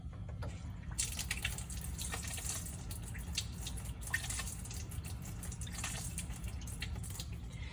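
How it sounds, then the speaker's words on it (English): Tap water runs steadily into a sink while lab glassware is rinsed after a precipitation reaction, a continuous close splashing and trickling with a few brief louder spatters, and no talking. "So I'm going to rinse this out."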